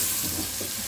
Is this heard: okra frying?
yes